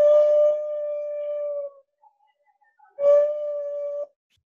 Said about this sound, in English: Here are some walruses whistling.